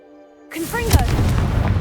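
A Confringo explosion spell goes off in Hogwarts Legacy with a sudden loud blast after a near-silent moment, followed by whooshing, crackling fire-like effects and a low rumble that carries to the end.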